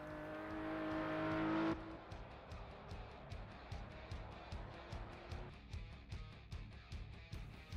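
A 2012 RUF CTR 3 engine in the Project CARS racing game, revving up to a loud whine before dropping to a lower, pulsing drone with rapid rhythmic ticks that continues at moderate volume.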